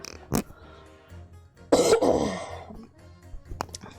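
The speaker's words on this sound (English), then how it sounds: "I need to clear my throat" A person clears their throat, a short rasp followed by a longer rough hacking clearing, close and alone, with a faint click afterward.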